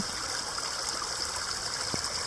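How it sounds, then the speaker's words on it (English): Constant rushing of natural spring water flowing nearby, a steady bright hiss with slight gurgles, no voices. "So this is the natural spring,"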